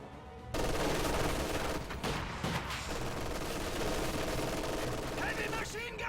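Heavy machine gun fire in a real-time strategy war game sounds as sustained, dense bursts of gunfire and battle noise, steady and loud across the stretch, with game voices heard amid the din.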